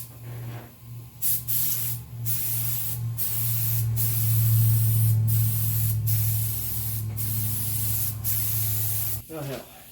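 Repeated bursts of spray hiss from a paint gun spraying clear coat onto a 1999 Chevy Suburban hood, several short blasts then a long steady spray, over a low droning hum.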